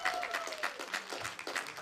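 Applause from an audience cheering the winners of a church group game, a short burst of clapping from a crowd with a voice speaking over it.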